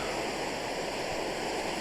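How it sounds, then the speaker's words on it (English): Flowing water in the video game Minecraft SkyFactory makes a steady, loud, full rushing wash that holds constant throughout. "I do hope you can hear me above the sound of the water."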